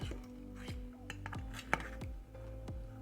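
A metal knife scrapes and clinks around the edges of a muffin tin holding baked stuffing muffins, a series of sharp metallic taps and rings at close range under a faint hum.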